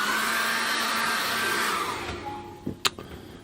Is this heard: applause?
no